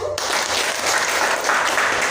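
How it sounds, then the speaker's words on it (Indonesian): A classroom claps for a student group after its performance, with loud, dense applause filling the whole stretch evenly from start to finish and no talking over it. "Tepuk tangan untuk penampilan dari kelompok 1."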